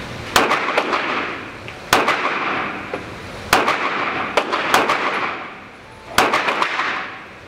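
Gunfire at a shooting range, a series of sharp loud shots fired in quick clusters of two to four, with short pauses between groups and no talking.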